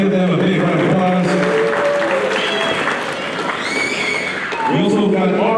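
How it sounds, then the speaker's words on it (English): Steady applause from a wrestling event crowd fills the space, with an announcer's voice booming over it throughout. "Let's give them a big round of applause."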